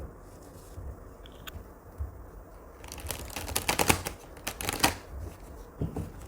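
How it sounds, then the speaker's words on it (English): Tarot cards riffle and slap together in quick crackling bursts, starting quietly and building to a dense, close shuffle. "Let's give it another shuffle"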